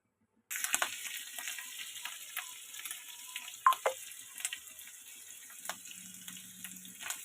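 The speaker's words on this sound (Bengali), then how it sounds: "গ্যাসে আমি তাওয়া বসিয়ে দিয়েছি, তেলটা দিয়ে দেবো গরমের জন্য।" Oil heats on a tawa over a gas flame, ready for an aloo kachori filling. After a brief silence a soft, continuous sizzle begins nearby, dotted with scattered small crackles and pops.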